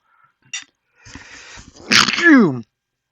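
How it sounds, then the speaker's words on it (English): A single loud sneeze bursts out after a brief quiet rustle, a short exhale before it and a drawn-out, falling vocal tail at the end. "Oh, excuse me, I sneezed."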